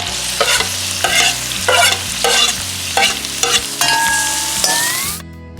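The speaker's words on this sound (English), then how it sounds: "just kind of roast that garlic, and then put our onions" Garlic and onions frying in a pan for beef vegetable egg rolls, with steady sizzling broken by regular scraping stirs about every half second, close and loud. A brief tone rises near the end before the sound cuts off.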